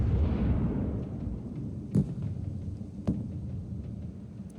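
Enemy bombardment landing around artillery in the game Broken Arrow: a low rumbling roll fading from a heavy opening, then two sharp distant blasts spaced about a second apart.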